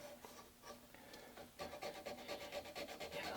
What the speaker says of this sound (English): I can wrap my sandpaper around it, and it gives me some really fine control, not only of the sandpaper, but how I create these radiuses.